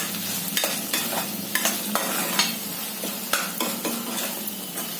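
Salted bajra bhakri mixture being stirred in a pan, with a soft continuous sizzle under intermittent close scraping strokes of a spoon against the pan.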